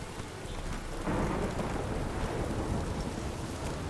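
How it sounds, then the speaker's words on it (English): Heavy rain hisses steadily during a thunderstorm in The Witcher 3, while a deep rumble of thunder swells and rolls underneath. The storm sounds broad and enveloping, with no voices. "Damn, this storm is nuts."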